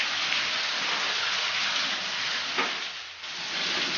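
River snails seasoned with soy sauce and oyster sauce grill slowly on a rack over low heat, openings facing up, producing a steady dense crackling sizzle that briefly softens near the end.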